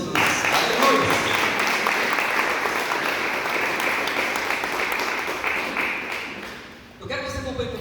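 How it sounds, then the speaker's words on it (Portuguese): A church congregation gives sustained applause in a Portuguese-language service, a dense roomful of clapping that stays loud and slowly thins before a speaker resumes talking at the end. "Dê uma salva de palmas para Jesus."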